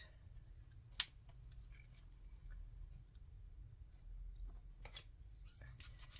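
Scissors picked up and set down during sewing-journal crafting, giving a few quiet clicks and sharp snips, one louder near the start, over faint room noise with soft movement between.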